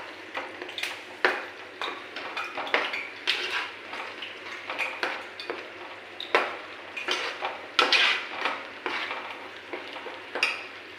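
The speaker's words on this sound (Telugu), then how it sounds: "ఇప్పుడు ఇది బాగా వేగుతుంది కదండి" Chopped tomato fries in a pan, a soft steady sizzle broken by repeated scraping and clinking strokes of a spoon stirring against the metal, close and fairly quiet, with no talk.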